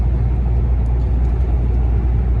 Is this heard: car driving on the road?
yes